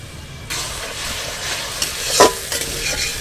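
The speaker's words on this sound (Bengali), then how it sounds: "এবার নাড়াচাড়া করে চাটনিটাকে একটু ভালো করে কষিয়ে নেব তেল ছাড়া পর্যন্ত" Chutney fries in oil in a pan while being stirred, a steady loud sizzle that swells after a quieter start, with a brief scrape of a spoon partway through and no talking.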